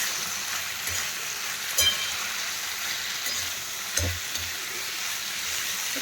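Fried bitter gourd and potato pieces being stirred in a pan, a steady soft sizzle with occasional low scraping knocks of the spoon, close and alone.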